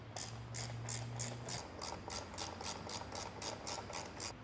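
Rapid ratchet clicks tighten the mounting bolts of a DRIFTR roof rack on a third-generation Toyota Tundra, an even run of about a dozen sharp clicks at close range with a faint hum underneath.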